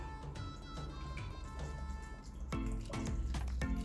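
A dirty piston from a two-cylinder 1000cc TL1000S engine is lowered into octane-booster engine cleaner, giving close, soft liquid sloshes and a run of quick drips.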